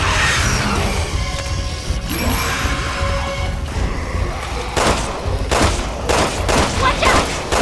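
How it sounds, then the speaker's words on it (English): Gunfire in Resident Evil 6, loud rapid volleys of shots and crashes over a dense noisy game scene, with voices briefly heard. "Watch out! Someone's shooting at us!"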